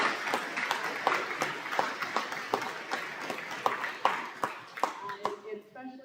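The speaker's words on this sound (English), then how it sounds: "which deserves a round of applause" Audience applause at a high school awards evening, steady dense clapping with sharp individual claps standing out, fading toward the end.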